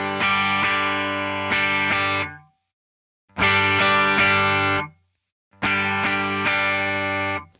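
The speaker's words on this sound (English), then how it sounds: "If I were to turn it all the way down so it's all compressed signal" Electric guitar played through a compressor pedal set to a fully compressed signal, three sustained strummed chords with squashed, even attack and long flat sustain, each cut off abruptly with silence between, loud and close.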